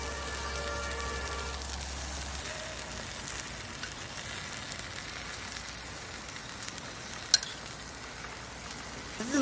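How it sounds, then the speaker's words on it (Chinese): Food spread with minced garlic topping sizzles as oil bubbles up, a steady soft crackling hiss that runs throughout, with one sharp click near the end. "冒油了"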